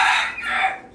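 A chicken at a bird farm gives one short, loud, close call that rises and falls within about a second, heard alone.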